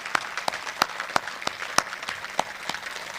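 Scattered clapping from the audience at a Hindi comedy and satire poetry gathering, a thin, sparse patter of separate claps rather than a full ovation, with no one speaking.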